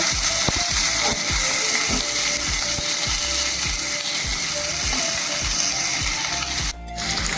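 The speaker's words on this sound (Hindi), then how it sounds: "प्याज को हम लोग भूनेंगे।" Chopped onions frying in a pan for a chicken curry: a continuous hissing sizzle with a regular run of clicking, scraping strokes as they are stirred, and no talk.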